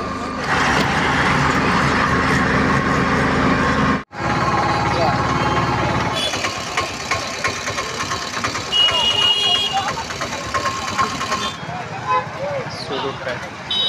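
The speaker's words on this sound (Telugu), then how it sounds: "ఆటో ఎక్కి సూలూరుపేటకి అయితే వెళ్తున్నామండి" A passenger ride in an auto rickshaw heading toward Sullurpeta, with a steady, close engine drone and road rumble throughout, a brief cut near four seconds, and talk over the motor for much of the ride.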